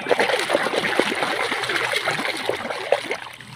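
Water splashing and trickling as muddy toy animals are washed, continuous close splatter with small gurgles throughout.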